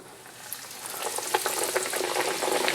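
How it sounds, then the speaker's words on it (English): Hot oil sizzles and crackles steadily as pork cutlets deep-fry for tonkatsu, the hiss swelling louder as they go in, with small pops scattered through. "the oil is ready for us to start frying, so let's get to it. In goes the cutlets."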